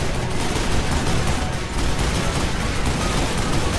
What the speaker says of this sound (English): At this point, I really should switch to the Gatling gun.